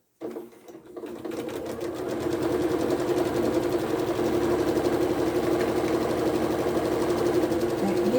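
A sewing machine runs steadily, stitching a 12-inch two-color scrappy quilt block with a leaf pattern; the motor's rapid needle chatter starts after a brief pause and holds an even, close, continuous rhythm with no talking.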